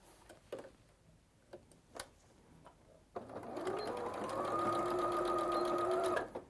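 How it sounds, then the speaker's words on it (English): A sewing machine stitches a 1/4 inch seam across a small square corner of fabric. A few soft clicks and taps come first, then the motor whirs up close and runs in a steady, rising hum for about three seconds before stopping. "we're going to just stitch a 1/4 inch seam across that tiny little square corner."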